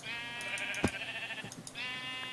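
Minecraft sheep bleats fill the moment, one long wavering cry broken by a sharp click, then a second bleat rising at the end, loud and close with no voices.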